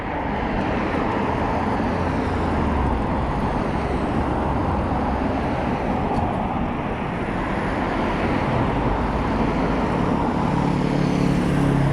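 Steady road traffic rolls past continuously at close range along a road in a small coastal town, a dense broadband roar of cars and vehicles with no pauses and no voices.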